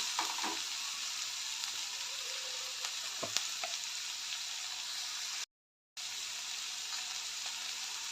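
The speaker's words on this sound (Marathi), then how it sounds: "सर्व मसाले आणि बटाट बटाटा वगैरे सर्व व्यवस्थित मिक्स करून चांगलं परतून घेऊया लालसर होईपर्यंत परतून घेऊया" Potatoes and spices sautéing in a pan for aloo matar pulao, a steady close sizzle with a few soft stirring scrapes, broken by a brief dropout; no one speaks.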